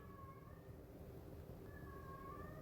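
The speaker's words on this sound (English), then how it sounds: "as soon as my cat starts yelling" A house cat yowls and meows in two drawn-out, wavering cries separated by a short pause, faint against a steady low background hum.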